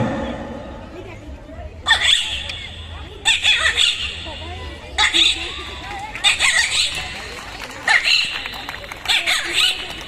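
A man on a book fair stage imitates a parrot's call with his voice, producing several loud, high-pitched squawking bursts in a regular rhythm, each lasting about a second, over a murmuring crowd.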